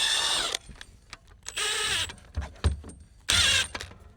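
An electric AGM scissor jack raises a Can-Am Commander by its chassis tube, its motor whining in three loud bursts of about half a second each, with softer clunks and mechanical knocks between them.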